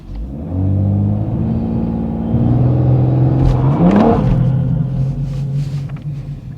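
A BMW M140i engine idles, then rises into a loud, sustained rev held high while launch control is attempted, before dropping back with a rough mechanical rumble.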